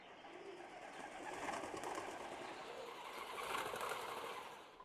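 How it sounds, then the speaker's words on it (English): Pigeons fluttering and cooing in a steady, moderately faint bird sound effect that swells and eases twice over a few seconds, with no talk. "Pigeons flying."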